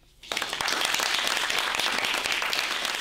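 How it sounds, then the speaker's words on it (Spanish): Sustained applause from a lecture audience bursts in after a brief quiet moment and continues steadily, loud and dense, with no talking. "Aplaudir."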